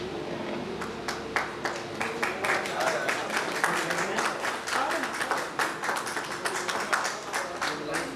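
Clapping from an audience at a public welcome ceremony, a sustained patter of many hands with sharp individual claps, moderately distant and continuing steadily without a break.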